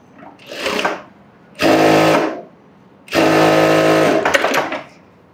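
Sewing machine stitching a hook strip: three bursts of close, loud motorized whirring with clattering needle action, separated by short silences, no talk.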